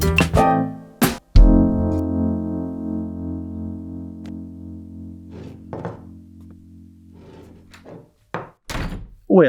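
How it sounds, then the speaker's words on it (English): A door slams shut with a heavy thunk that leaves a long ringing resonant tail, followed by scattered softer knocks and bumps. "Please don't slam the door."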